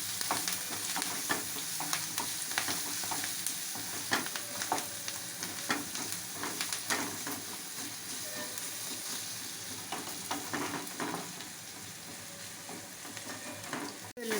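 Ginger garlic paste frying in a pan makes a continuous crackling sizzle with frequent spatula scrapes and taps throughout, close and moderately loud, with no speech.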